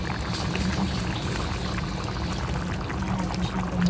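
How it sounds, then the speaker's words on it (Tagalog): Chicken adobo with gizzard bubbles in a pot, a steady close hiss and rolling simmer that runs unbroken for the whole stretch with no one talking. "Kumulo-kulo siya."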